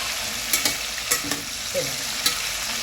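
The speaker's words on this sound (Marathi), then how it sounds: "बघा चांगलं एकदम फ्राय होतं चिकन." Chicken fries in onion oil in a single pot for biryani, giving a steady sizzle broken by several sharp scraping stirs of a spoon against the pot.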